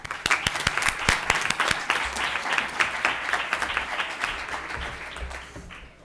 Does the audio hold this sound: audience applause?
yes